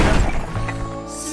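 A loud smashing crash of rocks in an animated children's cartoon, followed by a rumbling, ringing tail as the noise dies away.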